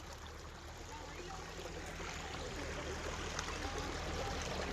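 Irrigation water flows along a channel beside paddy fields, a soft, continuous rushing and trickling heard from close by, faint and steady throughout.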